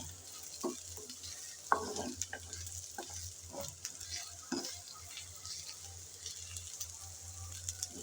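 Sliced onions and garlic sizzling and frying in a pan, with occasional louder scrapes and stirs over a steady hiss, no voices.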